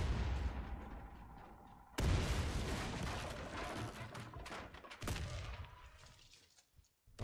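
Grenade blast in the online shooter Warface: a loud, sudden burst of broadband noise early on, with another heavy blast partway through, set among ongoing gunfire and battle noise.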